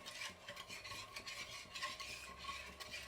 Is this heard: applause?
no